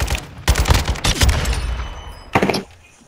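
A video game gun in the shooter Squad firing bursts, loud close rapid shots clustered early, then a pause and another short burst, with no talk.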